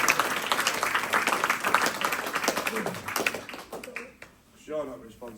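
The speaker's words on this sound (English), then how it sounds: "let's have a big round of applause to John Garvin" Applause at an instructor promotion ceremony, a burst of clapping for a promoted instructor that tapers off after about four seconds into quieter room sound, followed by a voice talking near the end.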